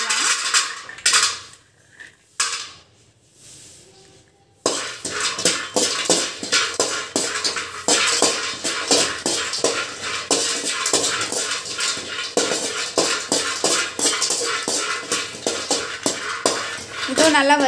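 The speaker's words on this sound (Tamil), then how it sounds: "அதுக்கப்புறமா வால்நட், அதையும் நல்லா வறுத்து" Walnuts dry-roast in a pan for a homemade health mix powder, stirred with a metal spoon. After a quiet opening pause, a dense run of rapid clattering scrapes and knocks continues close up.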